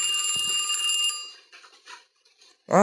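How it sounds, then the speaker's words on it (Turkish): A telephone rings with a sustained, piercing electronic trill that stops after about a second, leaving a few faint clicks and rustles before a voice begins at the very end. "Telefon zəng gelmiş."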